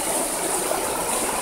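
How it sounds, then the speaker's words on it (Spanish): A waterfall pours into a clear trout river on the Majaceite in El Bosque, Cádiz, making a steady, close rushing hiss with no voices over it. "solo contamos, en directo, con este sonido de cascada, un río donde hay trucha"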